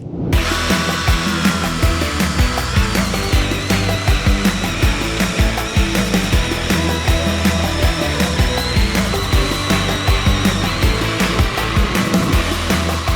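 A cordless chainsaw with a 16-inch bar whines steadily while cutting through ash wood, with rough grinding pulses as the chain bites, loud and close throughout.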